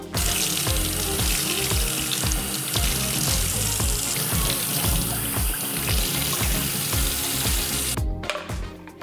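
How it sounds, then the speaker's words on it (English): Tap water runs steadily into boiler parts being filled in a laundry room sink, a loud continuous splashing gush that cuts off abruptly near the end. "That just means filling it up with a little bit of water."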